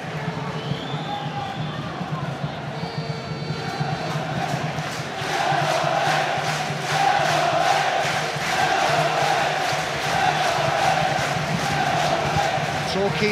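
Torquay United supporters chanting at a Hartlepool United v Torquay United football promotion final, a sustained distant crowd roar that swells and holds steady throughout, with a commentator talking over it.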